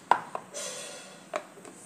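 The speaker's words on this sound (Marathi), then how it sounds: "कांदाही बारीक कापून घेते." Onion being chopped finely for vangyache bharit, with three sharp, close cutting strikes spaced unevenly and a soft rustling hiss between them.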